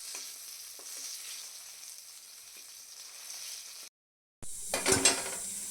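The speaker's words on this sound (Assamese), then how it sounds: "এয়া বেঙেনা ভজা তেলখিনিতে মই অকণমান কেপচিকাম ফ্ৰাই কৰি লওঁ" Capsicum fries in oil left over from frying small eggplants, a continuous close sizzle that cuts out briefly near the end, then returns louder with sharper crackles.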